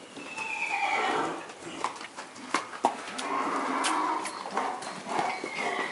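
Horses whinny and neigh repeatedly outdoors, several loud calls over a busy background with scattered hoof clops and faint voices nearby among a crowd of people.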